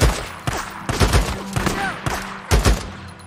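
Several loud, sharp rifle shots ring out one after another in a Days Gone gunfight set in a cemetery, each crack ending in a short echo, with a faint voice underneath at times.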